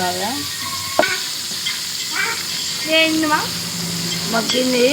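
Tomato rice cooks in a pan with a steady sizzle of frying under repeated scraping strokes of a spoon stirring through the mixture, close and moderately loud, with a few faint voice-like tones.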